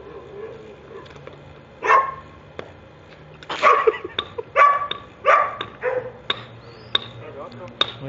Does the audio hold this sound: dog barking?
yes